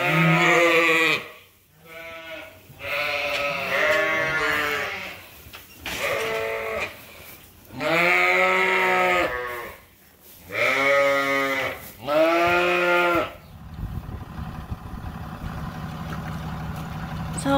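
Dorset rams on a farm bleat loudly and close in a run of long, wavering calls with short pauses between them, followed by a low engine-like drone at the end.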